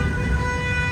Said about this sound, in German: Die Autos haben die ganze Zeit schon gehupt